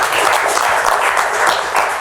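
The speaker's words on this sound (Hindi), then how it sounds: "शफकत चीमा साहब के लिए तालियां" Audience applause for film actor Shafqat Cheema at a Pakistani film-star interview show, a steady, dense wash of clapping that holds evenly for about two seconds without pause.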